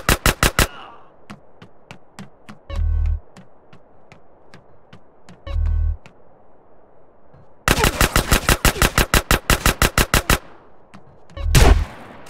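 Gunfire in GTA San Andreas, heard as loud rapid automatic bursts and single shots interleaved with deep booming impacts, including one long sustained volley near the end.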